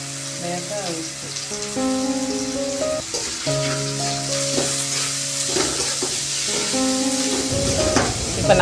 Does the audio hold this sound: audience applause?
no